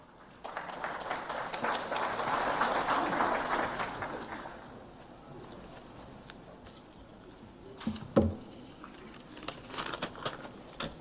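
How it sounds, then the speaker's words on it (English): An audience at the African Coffee Week exhibition applauding an introduced guest, a broad wash of clapping that swells loudly for several seconds and then fades, followed by scattered knocks and murmurs. "Please welcome him with a round of applause."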